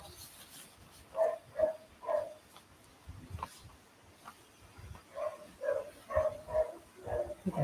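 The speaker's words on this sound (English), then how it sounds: "There's a dog barking outside." A dog barks outside in short bursts of sharp yips and woofs, heard at a distance in two clusters separated by a brief lull, with no talk over it.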